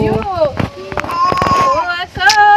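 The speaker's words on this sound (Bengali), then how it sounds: "কি সুন্দর হাওয়া দিচ্ছে দেখো" Outdoor breeze buffeting the microphone as a steady low rush beneath close conversation and a voice half-singing.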